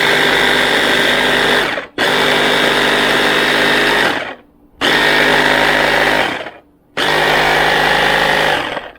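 Oxa immersion hand blender with its chopper attachment cutting cilantro, a loud whirring motor run in four short bursts separated by brief pauses, with no voices.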